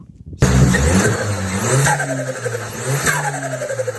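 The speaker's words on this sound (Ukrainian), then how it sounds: "Машина имеет турбонадув." A Skoda 1.6 turbo diesel engine with a five-speed manual gearbox starts abruptly, then revs up and settles twice, loud and close, with a rising turbo whine over the rough diesel idle.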